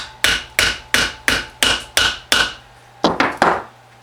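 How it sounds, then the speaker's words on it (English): Rawhide mallet hammering firework star compound into a mould, seven evenly spaced sharp thwacks, a short pause, then three quicker strikes, close and loud with no talk. "we will hammer down to as close to the cylinder but not touching"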